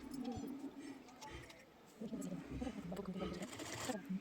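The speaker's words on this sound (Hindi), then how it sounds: "बड़ा वाला 5 नंबर का सिलाई लगाएंगे।" A sewing machine runs a long number-5 stitch along the folded side strip of a blouse, whirring in steady close bursts with a short pause midway while a voice talks over it.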